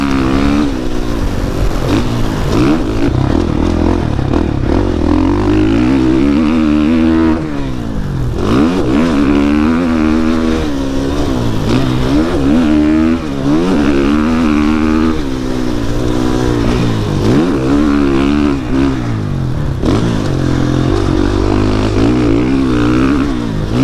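A 2021 GasGas MC450F dirt bike engine revs hard on a test ride, its loud, close roar rising and falling through repeated throttle blips and sustained pulls with no pause.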